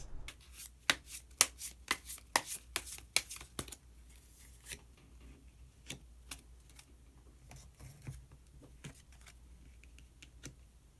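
Tarot cards are shuffled and drawn, making a cluster of crisp, quick slaps and riffles up close. Sparse, softer card snaps follow in a quiet room.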